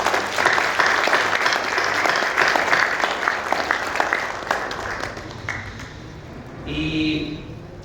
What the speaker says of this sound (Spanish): Así que quiero darles primero un aplauso a cada uno de ustedes